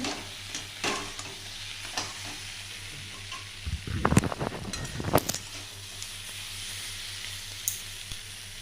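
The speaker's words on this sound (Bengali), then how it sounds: "তো একসাথে ভালোভাবে কষিয়ে নেব আমি মশলাটাকে।" Spice masala with salt and turmeric fries in a pan while it is stirred. A steady sizzle runs throughout, with a burst of louder scraping and stirring near the middle. There is no talking.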